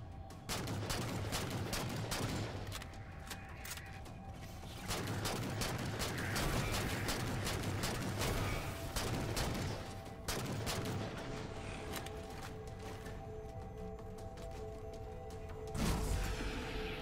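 Precision weapons fired rapidly at Watchers in Halo 4: a continuous, dense barrage of sharp shots and energy cracks over steady combat noise, loud and unbroken for most of the stretch, with occasional whooshes and mechanical clanks mixed in.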